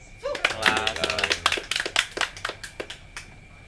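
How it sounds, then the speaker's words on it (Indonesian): An audience at a stand-up comedy show in Batam claps in a sparse, uneven burst of sharp hand claps close by, with a voice talking over them. "Tepuk tangan lah weh"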